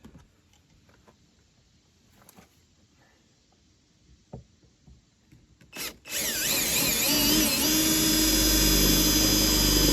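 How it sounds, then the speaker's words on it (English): A power drill bores a hole in a 2012 Chevy Impala while police rear-window bars are fitted. After a few quiet seconds of faint taps and handling, the drill kicks in loud and close, a steady high whine that runs to the end. "just drill a hole."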